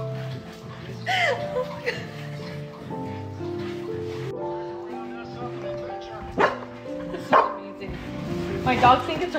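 Dogs bark and yip excitedly, close by, mixed with people talking and laughing over them.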